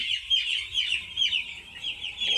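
Hens cluck on a poultry farm in a close, continuous run of short, repeated clucks with no voices.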